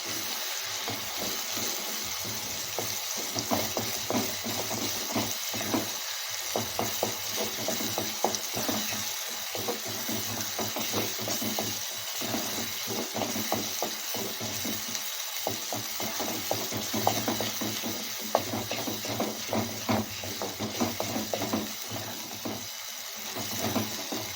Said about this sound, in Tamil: இதை நல்லா வந்து கிண்டி விட்டுக்கலாம்